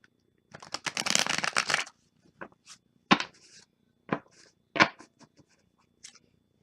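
Tarot cards riffled and shuffled in a quick burst of dense rustling, followed by scattered softer taps and flicks as the deck is squared up, fairly close.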